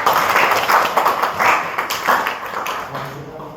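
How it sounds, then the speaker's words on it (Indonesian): Audience applause at a psychoeducation session on insecurity: a few seconds of scattered clapping from a modest group, fading toward the end, with voices mixed in. "Aplaus dulu untuk kita semua."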